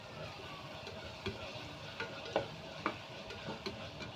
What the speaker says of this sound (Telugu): సరిపడా అల్లం వెల్లుల్లిపాయ పేస్ట్ అయితే వేస్తున్నాం. ఇది బాగా కలిసేలా తిప్పుకోవాలి ఒకసారి.